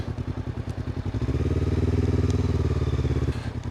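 A motorcycle engine chugs with a rapid, even pulsing beat as the bike slows and turns around, fairly close and loud with no talking.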